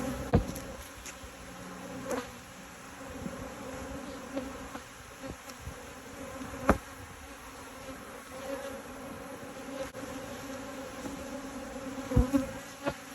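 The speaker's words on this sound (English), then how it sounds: "you can see how the bees are a little aggressive with no queen" Queenless bees buzz aggressively in a continuous hum with occasional louder passes close by, plus a few soft knocks and handling noises around them.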